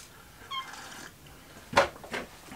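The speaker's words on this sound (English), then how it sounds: "my cat Mala, her name is Mala" A pet cat meows in a workshop being set up for an off-grid solar system, giving one faint call and then two louder, closer meows near the end, with quiet room noise in between.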